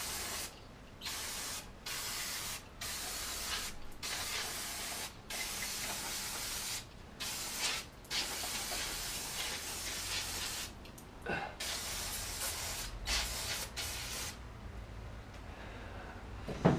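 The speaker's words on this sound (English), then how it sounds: "So give it another blast with the brake cleaner." Brake cleaner sprayed from an aerosol can onto parts of a Triumph Dolomite, heard as repeated long, loud hissing bursts separated by short pauses, close up with no talking.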